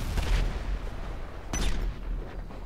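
Two booming blasts about a second apart, dull and rumbling, with low crackling noise in between, from explosions in the video game GTA Online.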